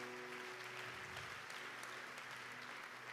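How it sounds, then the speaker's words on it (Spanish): A church congregation applauds, a faint, even wash of clapping heard from a distance over a continuous low hum, with a few sharper individual claps standing out. "Un aplauso para Pili, por favor."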